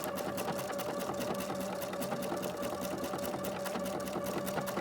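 A Pfaff sewing machine stitching ribbon runs with a steady, fast mechanical whir and rapid rhythmic needle ticking, constant and close, with no voices.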